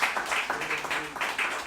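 A church congregation claps and applauds the Lord during a service, in a quick series of rhythmic bursts of clapping that carry on steadily.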